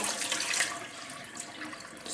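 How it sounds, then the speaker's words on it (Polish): Water poured gently off long-grain rice during rinsing, a steady splashing stream that tapers slightly, heard alone at close range. "I wylewamy tą wodę delikatnie."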